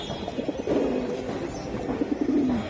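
Giribaj pigeons coo nearby in a series of low, throaty, rolling calls that rise and fade over a faint background hum.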